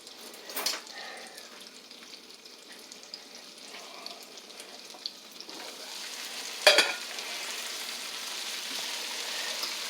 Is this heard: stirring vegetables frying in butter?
yes